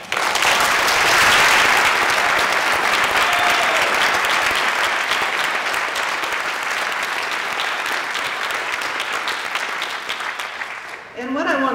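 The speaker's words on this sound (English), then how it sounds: "Give them another round of applause." A large audience at a community college scholarship award ceremony gives long, loud, continuous applause that fills the room, fading a little toward the end before a voice begins speaking.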